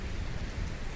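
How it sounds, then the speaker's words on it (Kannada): Heavy monsoon rain near Yellapur in Uttara Karnataka: a dense, steady wash of falling rain, loud and continuous across the brief moment, with no voices. "ಆ ನಮ್ನಿ ಮಳೆ ಐತೆ ನೋಡ್ರಿ"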